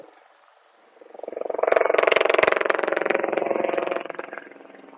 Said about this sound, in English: Let this helicopter go by real quick first.